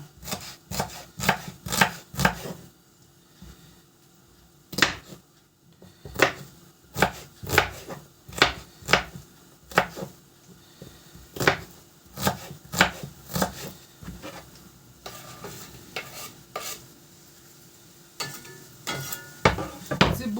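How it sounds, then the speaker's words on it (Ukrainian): Asparagus and green beans chopped with a knife on a wooden board, sharp close knocks arriving in quick irregular bursts with short pauses between runs, no talking. "І нарізаємо разом із квасолькою."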